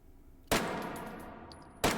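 Two sharp gunshots from a Beretta CX4 carbine on a VR shooting range in H3VR, the first at half a second with a long ringing decay and the second near the end, loud and close with no talk.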